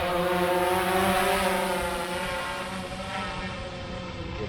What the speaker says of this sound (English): So let's go ahead and do a precision takeoff.